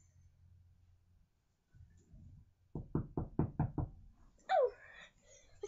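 Five sharp knocks on a door in a quick, even series, close and clear against a quiet room, followed by a brief high squeak.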